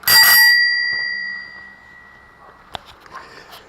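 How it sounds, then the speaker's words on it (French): A small bicycle-style bell fitted to an old moped is rung once, giving a bright, close ding that rings on and fades over about two seconds, followed by a few faint handling clicks. "Petite sonnette."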